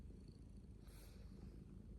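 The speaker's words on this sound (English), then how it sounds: "You're purring because Daddy's home." A cat purrs softly and steadily close by, a low continuous rumble with no other sounds over it.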